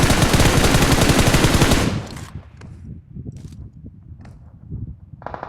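Loud sustained automatic gunfire in PUBG Mobile for about two seconds, then quieter scattered shots and game sounds.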